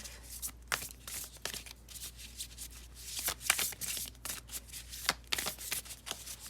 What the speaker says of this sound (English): I love this deck. All the cards are so pretty, but it's so hard to shuffle.